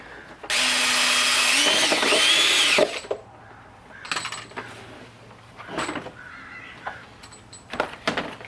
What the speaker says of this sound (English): make sure to pull the insulation out before you drill in there